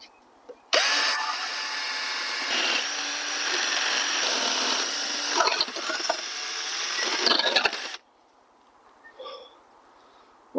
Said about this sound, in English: Well, that's all four holes drilled.